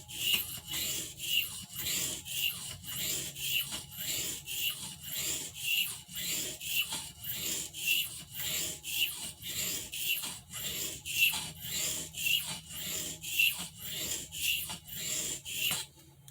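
A Barlow pocketknife blade drawn across oil stones, a steady, rhythmic rasping stroke repeated about twice per second for the whole stretch, close and moderately quiet with no talking.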